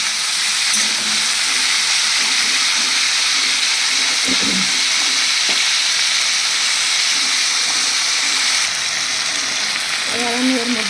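Pointed gourd (potol) frying in a pan with steady sizzling hiss and occasional scraping from stirring, close and continuous.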